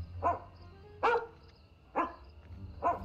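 A dog barks in the Sherlock Holmes video game Testament of Sherlock Holmes, giving four single, evenly spaced barks at moderate distance with no talking.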